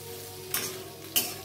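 Onions sizzle steadily while frying in oil in a pan, with two brief stirring scrapes breaking through the soft, continuous crackle; no one speaks.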